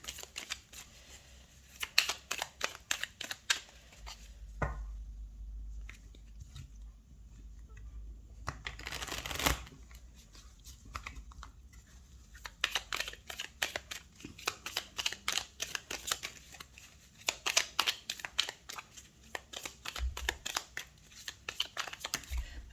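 Tarot cards being shuffled for a reading, with bursts of quick riffling flicks and soft clicks, close and fairly quiet, pausing midway for a brief rustle before the rapid shuffling resumes.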